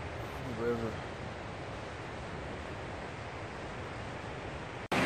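A rushing river beside a campsite at Sourgrass, California, gives a steady, unbroken roar of water, with a brief voice near the start.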